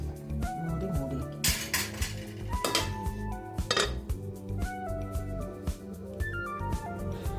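A lid goes onto a cooking pot of mambazha pulisseri, a Kerala ripe mango curry with jaggery, amid clattering metal pot and utensil knocks and clinks nearby, with no talking.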